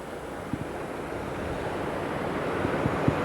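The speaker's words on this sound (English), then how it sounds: "Water crossing Church Street" Floodwater rushes across Church Street in Champlain village during the March 2004 flood, a steady broad wash of moving water mixed with wind noise and a few faint splashes.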